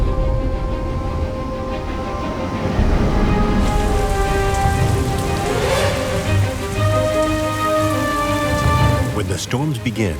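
Heavy rain pours steadily over a swamp during a storm, a dense continuous hiss with a faint rumble beneath, while a voice and soft music run over it.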